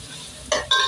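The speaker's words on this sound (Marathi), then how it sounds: "सतत असं मिक्स करत राहायचंय।" Garlic and rice mixture stirred in a hot pan for veg biryani: two short, loud bursts of scraping and sizzling in quick succession, no voices.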